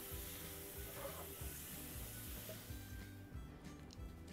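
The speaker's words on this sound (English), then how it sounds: "fry this until they are slightly golden brown" Food frying in a pan for a seafood soup rice dish, giving a steady, close sizzle that holds throughout and thins slightly toward the end, with no talking.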